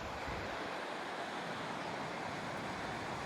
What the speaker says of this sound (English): And a glacier-fed stream.